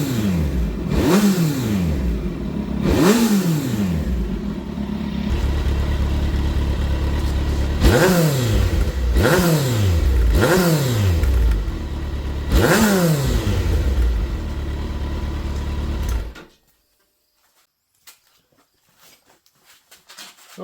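Kawasaki Concours 14 motorcycle with stock exhaust revved repeatedly in a garage: six sharp throttle blips rising and falling close by, then a sustained engine drone that cuts off into near silence with faint clicks.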